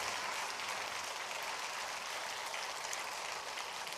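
Church congregation at a Korean Full Gospel Friday night service applauding to welcome a visiting pastor, a steady, fairly faint wash of many hands clapping from a distance, continuous without talk.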